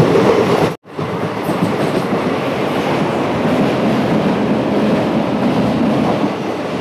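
A passenger train runs on the Palakkad to Nilambur line with a loud, steady rumble and wheel roar, broken once by a brief dropout near the start, then carrying on evenly.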